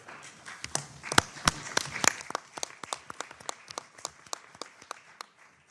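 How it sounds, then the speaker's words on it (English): Conference audience applause at a UN forum session on Palestine, a thin scattering of distinct individual claps that builds briefly and then tapers off, fairly quiet and without voices. "The applause are for you and the panelists"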